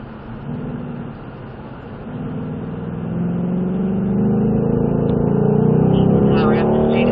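A Ford Mustang accelerates hard down a race track straightaway, its engine note climbing and growing louder, with a driver talking over the roar.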